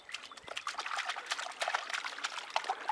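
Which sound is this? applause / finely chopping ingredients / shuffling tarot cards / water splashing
water splashing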